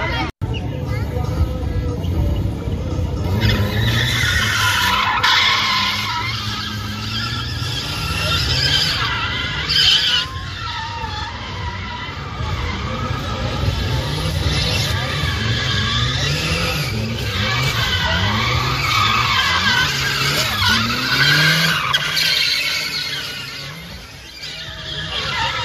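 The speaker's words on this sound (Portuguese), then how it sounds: "Hoje é dia de drift e dia de manobra" Cars drifting at an RJ Race event, tyres squealing in long rising and falling wails over engine roar, with crowd chatter and voices throughout.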